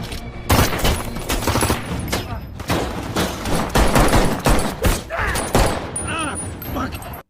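Gunfire from robbers in a tense heist movie scene, a dense fusillade of sharp bursts and booms, loud and close, mixed with voices and dramatic sound effects.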